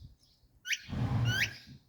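Two short, rising chirps blown on an away whistle, faint and close, the second a little longer, over a soft low rumble with quiet gaps around them.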